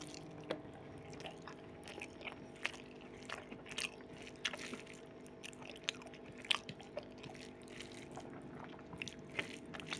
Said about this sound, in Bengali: একটু করে ডালিয়া সেদ্ধটা নিচ্ছি আর একটু করে ভাতের সাথে মিশিয়ে খাচ্ছি